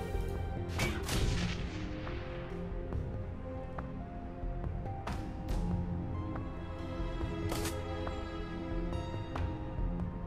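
Combat in the video game Shadowrun: Hong Kong, with a steady barrage of gunfire and explosive bursts, several sharp blasts standing out over a constant rumbling battle mix.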